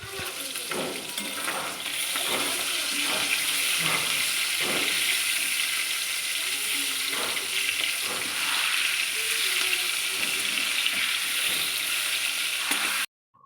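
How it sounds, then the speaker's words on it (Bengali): Fish frying in a pan while a Bengali home cook also prepares a boal fish curry: a steady, loud crackling sizzle runs through without a break and stops abruptly at the very end. "কিছুটা মাছ ভাজতেও দিয়ে দিয়েছি"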